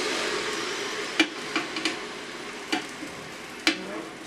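Hot dogs sizzle on a Ninja Foodi grill, a steady hiss close by, with several sharp clicks and taps as tongs flip them one after another.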